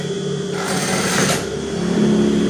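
A sewing machine runs steadily for the whole stretch, its motor giving a continuous close whir with a faint mechanical rattle, loud and unbroken, with no talk over it.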